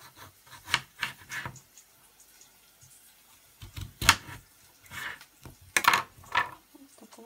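Irregular scraping and chopping of a knife through potatoes on a board, short sharp strokes with pauses, close and fairly faint.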